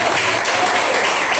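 Church congregation clapping in praise, a loud, close, unbroken burst of applause filling a brief moment.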